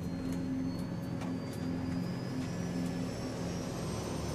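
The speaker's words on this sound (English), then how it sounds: "The plane they're flying this evening is a Saab 340." Saab 340 twin-turboprop commuter airplane engines at takeoff power, heard from inside as a steady, droning hum with a pulsing tonal throb, moderately quiet and continuous throughout.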